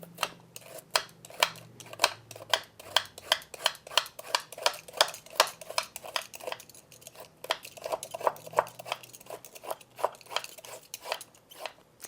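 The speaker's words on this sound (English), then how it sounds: "First, what you want to do is peel the broccoli stalks" A peeler scraping along broccoli stalks: a long run of quick, crisp rasping strokes in an uneven rhythm, close and fairly quiet, with a faint low hum underneath and no speech.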